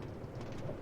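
Steady rain on a rainy Oklahoma night, a continuous broadband hiss with a low rumble beneath, fairly faint and uniform throughout.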